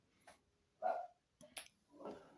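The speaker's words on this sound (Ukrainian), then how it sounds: "собаки гавкнув, до речі, нагадав" A dog barks a few times at a distance, faint, short and spaced unevenly, in an otherwise quiet setting.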